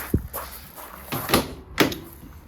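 The rear doors of a Ford Transit Custom Trend 340 L1 PHEV van are handled, giving several separate close metallic clunks and latch knocks spaced about half a second apart.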